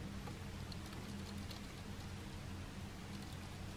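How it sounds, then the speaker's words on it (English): Steady, dense patter of freezing rain falling on a surface nearby, continuous and fairly quiet with no voices. "That's freezing rain."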